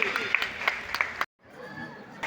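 Applause and cheering from the audience at a community award ceremony, with bursts of clapping under a loud announcer's voice, a sudden cut to near silence, then faint crowd noise returning.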